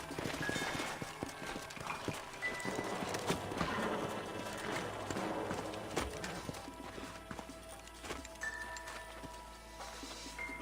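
Horses' hooves clip-clop steadily in the Red Dead Redemption video game, with uneven rhythmic strikes over a game soundscape and a brief whinny.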